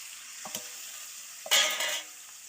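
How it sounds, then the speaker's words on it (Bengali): Raw goat meat lands in a pan of frying potatoes, a couple of soft knocks followed by a sudden loud burst of sizzling that fades over half a second above a steady background hiss. "এই যে কাঁচা মাংস ঢেলে দিলাম।"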